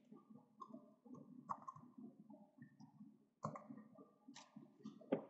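A computer mouse clicking during CATIA V5 design work: three faint, sharp clicks spaced a couple of seconds apart over a low background hum.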